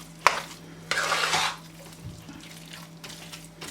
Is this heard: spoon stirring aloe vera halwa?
yes